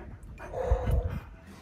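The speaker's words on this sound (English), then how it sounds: "We have a very damp dog." A damp dog whimpers faintly a few times in a brief, soft burst of whines and low growly noise, with light background rumble and no talking.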